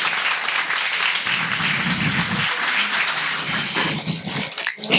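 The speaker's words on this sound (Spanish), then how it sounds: "Démosles un aplauso a los chicos." Audience applause for children at a church service, a steady wash of clapping from a crowd that tapers off over a few seconds with no talking over it.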